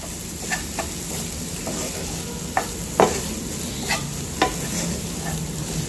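Vegetable momo filling cooks in a pan under a soft continuous sizzle, broken by several distinct spatula knocks and scrapes at irregular intervals.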